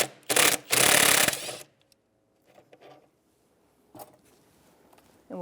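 A 10mm socket ratchet loosening a mounting bolt near the throttle body of a 1999-2004 Jeep Grand Cherokee, with a loud burst of rapid ratcheting clicks followed by a few fainter, scattered metallic clicks and taps.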